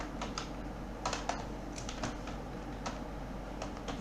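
Computer keyboard keys clatter as HTML code is typed, irregular bursts of light clicks close by over a low steady hum.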